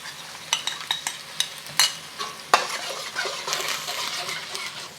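Sauce simmering in a pan for beef with Chinese broccoli, heard as soft bubbling and sizzle broken by several sharp utensil clinks and scrapes against the pan.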